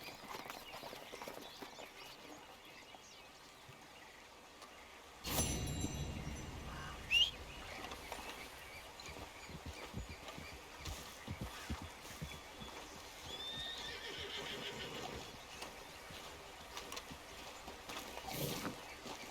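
A horse in Red Dead Redemption 2 clip-clopping with soft, steady hoofbeats, faint and distant under quiet game ambience, with a couple of louder thuds along the way.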